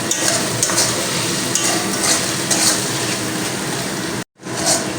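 Masala of tomato, salt and chili sizzles and fries in a pan while a spoon stirs and scrapes it, a loud continuous hiss close up, briefly cut off near the end before resuming.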